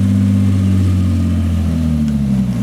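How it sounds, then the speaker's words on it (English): A Jaguar C-type replica's engine pulling away, a loud, low, throaty rumble with steady droning tones that shift slightly in pitch as the car accelerates, close by and continuous. "And off he goes, driving down to Lincoln, just about 100 miles away in the northern part of the United Kingdom. It even sounds old, that car."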